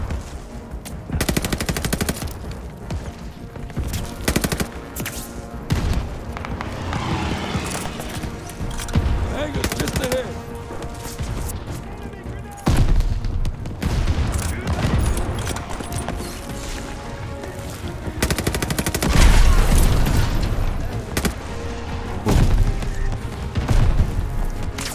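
Dense, loud gunfire from Call of Duty Vanguard, with sustained automatic bursts and heavy impacts running nearly throughout, with speech over it.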